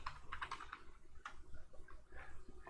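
A command is entered on a computer keyboard in quick bursts of close, crisp key clicks, with short pauses between the runs of taps and no voices.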